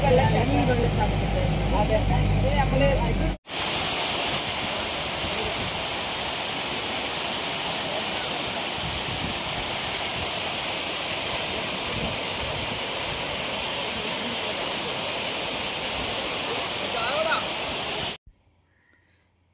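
A monsoon waterfall rushes loudly as broadband roaring water. After a short cut it runs steady and close for about fifteen seconds, then stops abruptly. Talk can be heard at the start.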